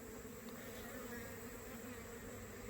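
Robbing honeybees swarm around a screened remote hive entrance, making a steady, dense buzz that hums on without a break, faint and fairly distant.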